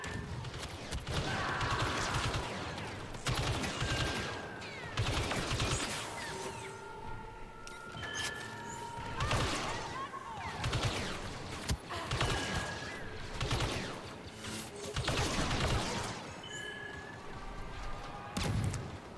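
Blaster fire and explosive bursts in a Star Wars Battlefront 2 story-mode battle, repeated volleys through a dense, steady wash of combat noise with a voice talking over parts of it.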